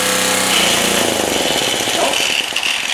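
Generac G-850 portable generator with a Kawasaki engine labouring loud and close under an electric drill load, its rough, hammering drone sagging and breaking up as the engine bogs down and stalls.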